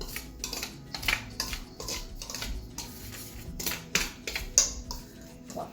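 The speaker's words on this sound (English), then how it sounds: "Take my whisk just to kind of fluff it around, mix it." A whisk clinks and scrapes against a bowl while it fluffs dry ingredients for cinnamon bun dough, making irregular light metallic taps and rattles at close range with short pauses between strokes.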